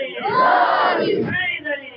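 A religious gathering crowd, hands raised, shouts the Naara-e-Haidari slogan in unison, a loud massed chant that swells and then tails off.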